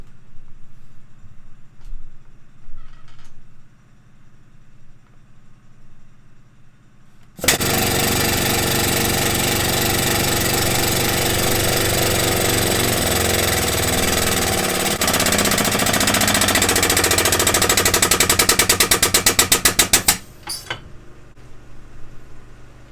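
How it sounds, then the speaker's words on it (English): A hydraulic hose press crimps a permanent fitting onto a hydraulic hose, a loud steady mechanical drone starting abruptly and running for about thirteen seconds before cutting off, preceded by quieter handling sounds. "A permanent fitting, crimped to a hose"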